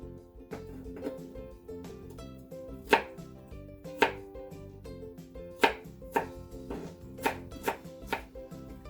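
A knife chopping a knob of ginger on a cutting board for Japanese tonjiru, a series of close crisp thuds in an uneven rhythm, some strikes sharper than others, no talking.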